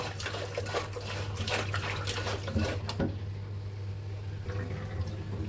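Pieces of pangas fish are washed in water, giving soft sloshing and splashing with a few light clinks of a bowl, fairly quiet and steady against a low background hum.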